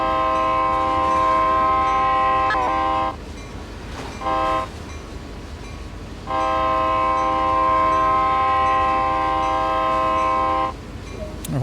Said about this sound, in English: I hear a train somewhere